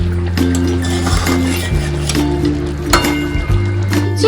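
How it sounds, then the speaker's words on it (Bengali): A metal lid clinks and rattles as it comes off a pan of simmering shol fish curry, with several light metallic taps over a steady kitchen hum. "এবার ঢাকাটা খুলে নেব।"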